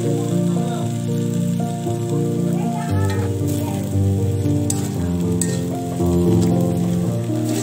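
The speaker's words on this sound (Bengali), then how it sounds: "নুডলসটাকে আমি ভেজে নেব" Noodles frying in a pan give a steady, continuous sizzle that runs the whole time beneath a louder tonal musical backdrop, with no talking.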